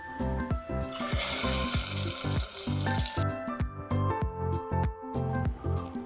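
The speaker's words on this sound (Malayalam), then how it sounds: "നമ്മുടെ താളിപ്പ് റെഡിയായിട്ടുണ്ട്. ഇത് നമുക്ക് പരിപ്പ് കറിയിലേക്ക് ചേർത്ത് ഇളക്കി യോജിപ്പിക്കാം." Hot tempering poured into Kerala-style toor dal curry (parippu) bursts into a loud, steady sizzle and crackle, with a spoon stirring through the pot in rhythmic knocks and scrapes, no voices present.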